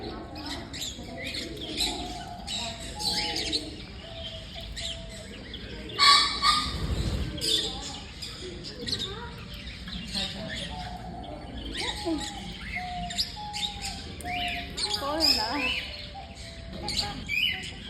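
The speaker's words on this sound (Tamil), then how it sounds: "கீழே கீழே பேர்ட்ஸ் இருக்கு" Birds chirp and squawk throughout a busy bird park aviary, the calls scattered and mid-distance, mixed in with the chatter of a family talking in Tamil.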